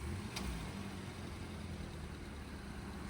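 A car's engine idles at low speed while the car reverses slowly, giving a steady, moderately loud low hum with a brief faint tick near the start.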